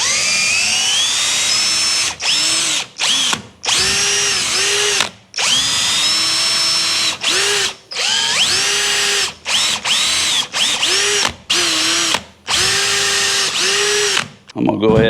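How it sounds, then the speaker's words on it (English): A power drill pre-drills holes in wet wood, whining in repeated bursts that rise and fall with short pauses between, close and loud, with talking heard between some runs. "I want to drill 4 holes."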